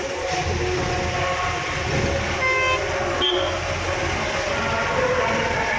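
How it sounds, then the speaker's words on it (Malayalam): Vehicle horns toot in a long traffic jam near Rahuri, Maharashtra, among big trailer trucks, with a steady low rumble of engines and a couple of brief horn blasts rising over it. "ഓണടിച്ചിട്ടൊന്നും കാര്യമില്ല"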